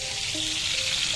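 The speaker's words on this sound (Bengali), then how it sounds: "মাছ ফ্রাই করতেছি। ইলিশ মাছ" Hilsa fish fries in hot oil with a loud, dense, unbroken sizzle heard up close, with faint faint pops and spatters in the bright hiss.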